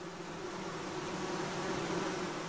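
Honeybees from a hive colony hum in a steady, dense buzz that holds at an even level, alone and without voices.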